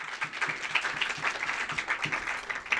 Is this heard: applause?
yes